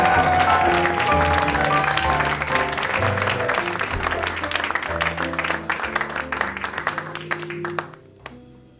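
Audience applause for the performers rises over loud ongoing stage music, a dense crowd clapping that stays strong before thinning out and stopping near the end.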